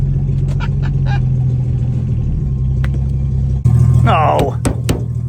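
A 1963 Plymouth Valiant's slant six engine drones loudly at a steady rumble throughout, with a brief surge near the end as a voice talks over it.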